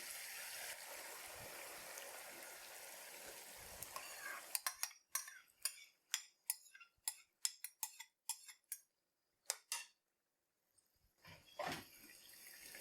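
Yogurt being stirred into green chicken karahi masala in a pan over high flame, with a sizzling start and then a run of rhythmic wet scraping strokes of a spoon, close and distinct.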